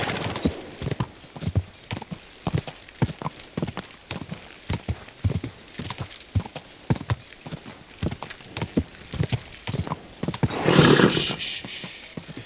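Rapid, rhythmic hoofbeats of a galloping horse in the medieval video game Kingdom Come Deliverance 2, steady and close throughout, with a brief burst of louder clatter and noise near the end.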